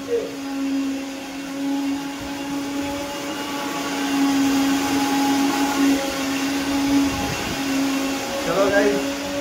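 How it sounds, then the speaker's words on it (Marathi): A kitchen mixer grinder runs continuously with a steady, loud motor whine and hum, holding its pitch for the whole stretch with slight swells in intensity; no talk. "मिक्सरला वगैरे लावायला लागले."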